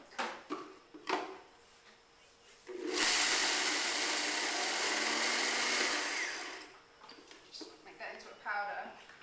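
A blender grinds sunflower seeds into powder, a loud steady roar lasting about four seconds, with a person talking before and after the grinding.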